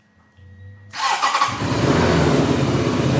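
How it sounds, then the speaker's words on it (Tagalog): A BENDA DarkFlag 500 motorcycle with a V4 engine and Swabe exhaust starts up with a sharp burst, then settles into a loud, steady, throaty idle close by, with no talking. "Ganda ng tunog dito, guys. Naka V4 engine."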